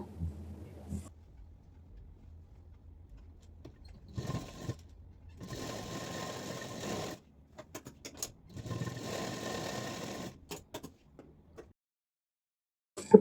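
Sewing machine stitching the front and back shoulders of a knee-length frock together, running in several bursts of a few seconds each with short pauses and faint handling noises between, no talking.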